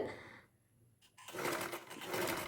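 A sewing machine stitches lining fabric, starting quietly and then running in a steady, close, loud burst of rapid stitching through the second half.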